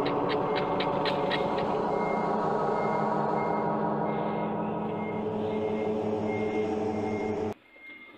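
A large truck's engine rumbles loudly and steadily up close, with a rapid run of reversing beeps early on before the sound cuts away near the end.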